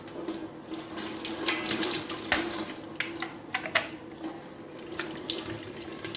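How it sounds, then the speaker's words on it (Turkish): Water streams steadily from the spray arm holes of a Profilo BM4380EG dishwasher, a continuous close splashing and trickling onto a countertop, with a few sharper drips and splatters standing out. "Buradan da aynı şekilde sularımız akıyor"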